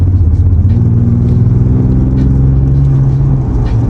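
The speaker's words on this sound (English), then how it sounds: "an engine so powerful and so exhilarating that it allows you to engage in the thrill of motion" Ford Ranger Raptor V6 pickup truck engine running loud and steady with a deep, continuous rumble and slight rising revs, close and alone with no talk.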